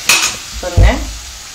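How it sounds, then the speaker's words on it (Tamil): Water is sprinkled into a pan of cooking pumpkin for a Tamil poriyal, giving a short burst of hissing sizzle with light scraping, close and loud, lasting about a second. "இப்போ நான் தொளிச்சு தான் விடுறேன்."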